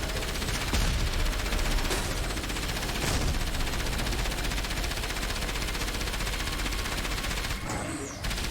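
Gunfire from shooting people in Enslaved: Odyssey to the West, a dense, sustained rattle of rapid shots that stays loud and continuous throughout.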